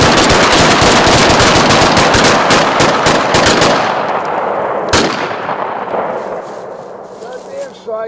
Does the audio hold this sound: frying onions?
no